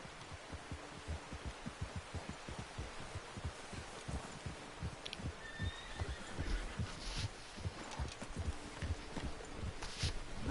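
Horse whinnying over the rhythmic thud of hooves in Red Dead Redemption 2, with steady galloping beats throughout and a brief neigh in the middle, fairly loud against an outdoor game soundscape.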